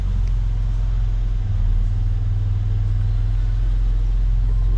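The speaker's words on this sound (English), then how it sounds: "So we'll get the car started, just to show that the car starts without fault" Mercedes SL400 AMG Line engine running just after starting, a steady low idle rumble, close and continuous with no talk.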